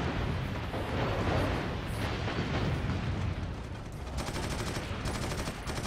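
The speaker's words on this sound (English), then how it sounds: "Yeah, it is a crack grenade." A crack grenade goes off in Warhammer 40,000: Eternal Crusade, a loud sustained roar of blasts and gunfire-like crackle filling the whole stretch with dense rumbling energy and no clear pause.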